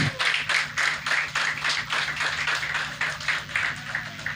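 A church congregation claps in a steady, rhythmic beat, about three claps per second, sustained and fairly close, with a faint hum beneath.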